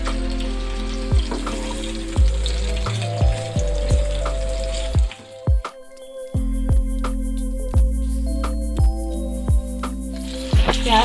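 Onions hit hot oil with a loud, steady sizzle, broken by repeated knocking clacks of a utensil against the pan and a brief pause midway, with no one speaking.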